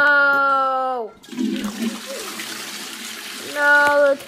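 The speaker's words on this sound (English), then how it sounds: "No, the toilet flushed." A toilet flushes in a Roblox video game, a short gush of swirling water between stretches of synthetic game tones, fairly close and clear.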